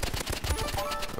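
Pistol gunshots in Roblox Rivals snap out as a rapid run of sharp repeated cracks, close and fairly loud, packed into about a second.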